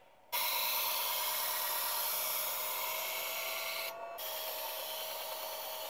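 A kitchen knife is drawn through a WorkSharp E5 electric sharpener, a steady abrasive belt whir and grind held for several seconds with one brief gap, close and fairly quiet.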